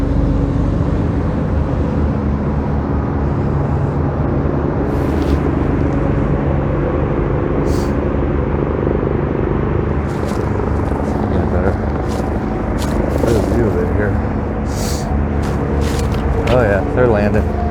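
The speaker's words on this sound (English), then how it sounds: "Alright, that's a medevac chopper." A medevac helicopter flies in to land at a hospital, heard as a steady, loud rotor and engine rumble that continues throughout, with people talking over it.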